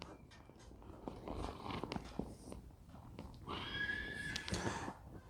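A young horse in cow horse training whinnies at a distance, with faint hoof clops, rustling and scattered knocks across a quiet outdoor setting.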